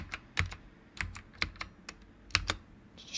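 A computer keyboard clatters with irregular, close keystrokes. Short bursts of key clicks are separated by brief pauses, and there is no talking.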